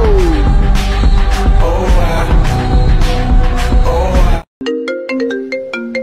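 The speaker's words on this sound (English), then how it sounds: "someone is calling Dad's phone" A mobile phone ringtone for an incoming call cuts in after several seconds of loud music, playing a bright, repeating electronic melody up close with no talk over it.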